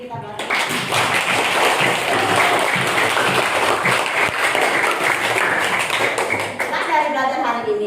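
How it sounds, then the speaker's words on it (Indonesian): A classroom of students claps their hands together in a sustained burst of applause that lasts several seconds before tapering off, with voices mixed in. "Coba tepuk tangan dulu untuk hari ini kita belajar."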